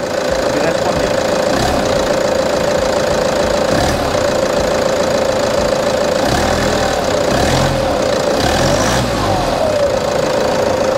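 Antique diesel car engine running steadily and loudly close by, with a constant knocking drone and a few brief surges as the throttle is blipped, while people talk over it.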